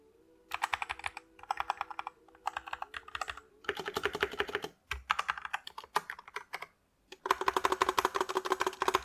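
Rapid keystrokes clatter on an AntEsports MK4500 Pro mechanical keyboard with red switches in quick bursts separated by brief pauses, close up and crisp.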